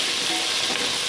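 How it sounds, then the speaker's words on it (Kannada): Chopped tomatoes dropped into onions fried golden brown for Gowda-style mutton biryani, a loud, dense hiss and sizzle filling the short moment, close and steady. "ಈಗ ನಾವು ಹಚ್ಚಿಟ್ಕೊಂಡಿರೋಂಥ ಟೊಮೊಟೊ ಹಣ್ಣು ಹಾಕೋತಾ ಇದ್ದೀವಿ."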